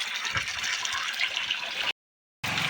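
Water pouring and splashing through a Ganesh festival decoration setup, a steady close rushing flow that cuts out abruptly for half a second, then resumes.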